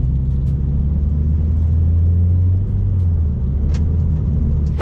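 A Scion FR-S drives steadily with a deep, continuous engine rumble and road noise, loud and close, with no voices.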